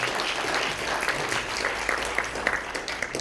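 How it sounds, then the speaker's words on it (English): Audience applause at a presentation on IPOs, ICOs and STOs, a steady dense clapping from a crowd that holds fairly even for a few seconds with no talk over it. "give Drew a hand of applause"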